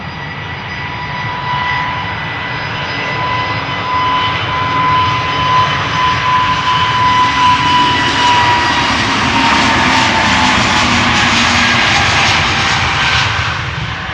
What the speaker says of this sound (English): A333 Turkish flight 1952 going to Istanbul.